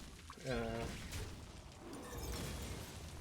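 A voice breaks into a wet, bubbling gurgle, followed by rough, murmured vocal noise at moderate volume.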